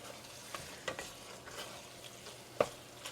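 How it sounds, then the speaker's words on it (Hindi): Spices stir-fried in a pan, giving a faint, steady sizzle broken by a few soft spoon scrapes and one sharper clink near the end. "तो इसके साथ आपने इसको अच्छी तरह से भून लेना है 1-2 मिनट तक।"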